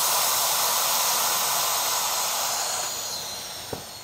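Air hisses steadily as the outlet of a vacuum sealer is released on mason jars of bulk green tea, a loud close rush that slowly fades and ends with a small click.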